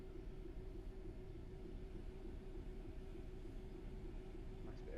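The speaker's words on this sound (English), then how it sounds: "Here's our train. Well, that was unnecessarily loud." Train arriving in Train Sim World 6 on the Medway Valley Line, heard as a loud, steady low rumble that holds for the whole stretch with no break.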